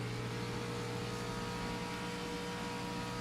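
A video game racing car's engine note holding a steady, droning tone as the driver lifts off the throttle to save fuel, constant and close with no break.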